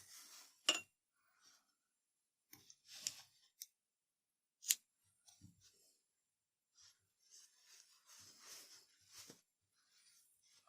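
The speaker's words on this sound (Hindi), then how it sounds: "अब इसको थोड़ा सा पीछे की तरफ को निकाल के हम इसको काट देंगे।" Scissors snipping through finger-knitted sock yarn, a few faint, sharp isolated cuts with soft handling rustles between them in an otherwise quiet room.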